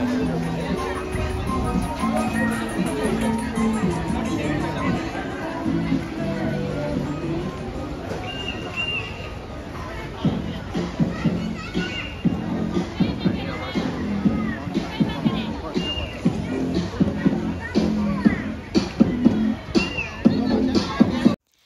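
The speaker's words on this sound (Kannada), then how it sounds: "ವೀಕೆಂಡ್ ಆಗಿದ್ರಿಂದ ತುಂಬಾನೇ ಕ್ರೌಡ್ ಇತ್ತು." A busy weekend food festival crowd with many snack stalls, dense chatter and babble all around, occasional shouts and louder bursts building toward the end.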